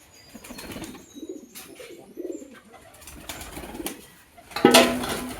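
Pigeons coo softly while they are fed, and irregular bursts of flapping wings rise toward a loud flurry near the end. The setting sounds close and fairly quiet.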